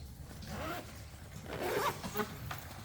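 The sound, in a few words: zipper of Saudia Airlines travel bag being zipped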